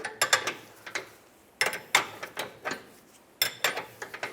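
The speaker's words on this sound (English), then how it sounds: "we can take our 7/8 wrench. We're just going to try to work this and essentially just get it so it's nice and broken free" A 7/8 wrench works back and forth on a lateral link bolt of a 1999-2003 Toyota Solara, giving close, sharp metallic clicks and ratcheting scrapes in three short bursts separated by brief pauses.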